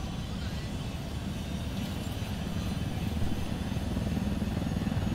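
A combat helicopter in the video game Ghost Recon Wildlands gives off a steady, low rotor and engine rumble throughout, moderately loud, with voices talking over it.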